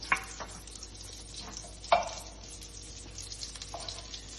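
Butter melting in a pan for Alfredo pasta sauce gives a soft, steady sizzle with faint stirring scrapes and a couple of small clinks, all fairly quiet.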